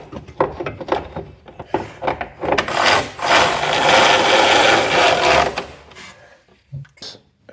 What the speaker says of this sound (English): put that through the hole, and then I just have to get my bolt started.